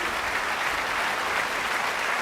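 A concert audience at a St Cecile event in Paris applauds a band with thick, continuous clapping that stays loud and even from start to finish.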